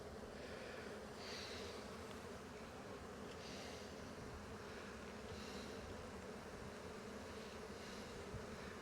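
Honey bees drone in a continuous, faint hum while a swarm is being caught on a Russian Scion, a low buzzing bed with occasional louder passes of individual bees near the microphone.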